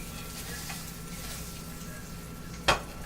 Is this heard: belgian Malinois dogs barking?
no